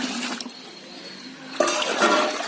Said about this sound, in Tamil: இது கூட இப்போது தேங்காய் பாலையும் மிக்ஸ் பண்ணிக்கலாம்.